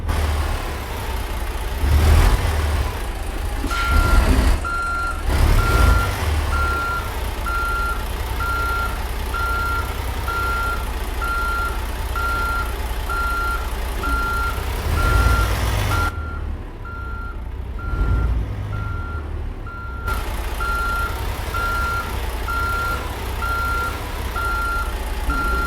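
A semi truck and trailer reverse in the American Truck Simulator game, with a steady rhythmic reversing beeper pulsing for most of the stretch over a low idling diesel engine, punctuated by a few heavier engine surges and a brief lull.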